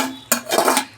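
Maggi noodles dropped into a pot just taken off a gas stove, a single sharp metallic clatter of the pot followed by a brief rattling clink, close and clear with no talk.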